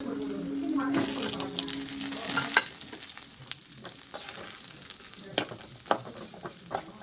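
Mint, coriander leaves and black peppercorns fry in a pan while being stirred, a moderate sizzle with scattered sharp clicks and scrapes from the utensil, plus a brief stretch of running water.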